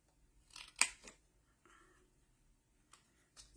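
Scissors snipping a small piece of material, a few quiet, crisp cuts spaced out in near-silence: a cluster of snips early on and two more near the end.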